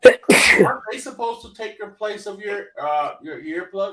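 A sharp, loud sneeze bursts out near the start, followed by someone talking at a normal pace.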